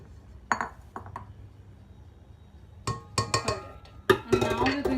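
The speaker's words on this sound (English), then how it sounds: "Scrape down your bowl" A spatula scraping down a mixing bowl of cake batter gives a few clinks and knocks, then a run of sharper close scrapes and taps against the bowl toward the end, with a voice talking over part of it.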